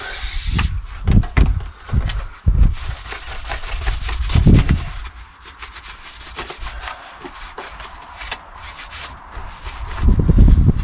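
Cloth wiped firmly over a surface with brake cleaner while carpet-lining a VW Transporter campervan: close, loud rubbing strokes in uneven bursts, some brisk and some drawn out, with no talking.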